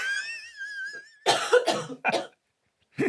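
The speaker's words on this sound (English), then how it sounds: "You got a coughing fit." A few harsh, loud coughs burst out in quick succession after a brief high tone, then a pause and one more cough.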